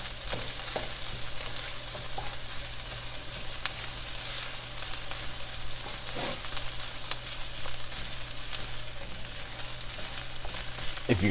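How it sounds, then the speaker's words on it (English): Tomato paste fries with vegetables for shepherd's pie in a pan, a steady close sizzle with occasional soft stirring scrapes and taps and no talking. "You want to let your tomato paste cook a little bit."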